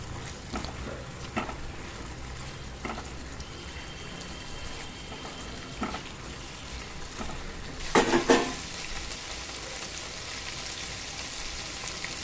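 Fried chicken pakoras stirred into a wet honey chicken gravy: a soft, steady churn of liquid scraping and sloshing, with a few sharper wet knocks of the spoon near the end and no talking.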